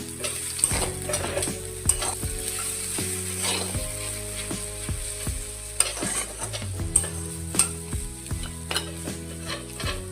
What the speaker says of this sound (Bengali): এবার সমস্ত সসের সাথে চাউমিনটা ভালোভাবে মিক্স করে নিন